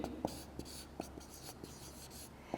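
Chalk or marker scratching across a board during a lecture, a quiet series of short strokes and taps spread unevenly over a few seconds with no talking.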